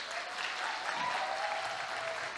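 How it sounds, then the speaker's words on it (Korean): A church congregation at a Sunday service claps together to welcome a guest, a dense, even wash of applause that stays steady from start to finish, with a faint voice rising over it. "우리 박수로 환영하겠습니다."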